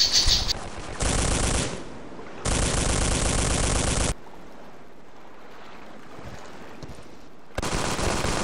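Helldivers 2 gunfire: long sustained bursts of rapid automatic fire, loud and close, broken by short pauses and a quieter stretch before the shooting resumes.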